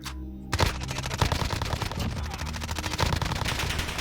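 SMG gunfire in the video game Warzone, fired at long range, comes as a sustained rapid stream of loud, evenly spaced shots after a brief steady hum at the start.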